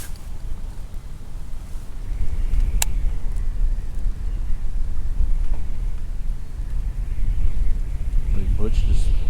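Gusty wind rumbles and roars across a microphone while kayak fishing, steady and heavy, building slightly stronger partway through.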